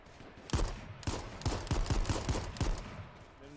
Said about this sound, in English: Someone's shooting at us, I don't know where though.